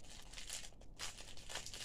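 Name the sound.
crinkling packaging while unboxing a parcel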